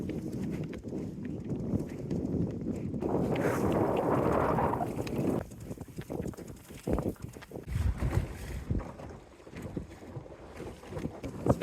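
Wind buffets a homebuilt 14-foot offshore mini-cruiser sailboat at sea, a rough, rushing roar mixed with choppy water and hull knocks that swells, then breaks into gusty bursts.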